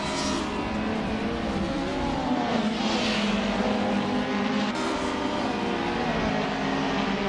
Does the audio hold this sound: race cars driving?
yes